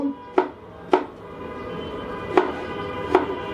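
A knife chops a capsicum finely on a cutting board, four distinct crisp knocks spaced unevenly over a quiet background.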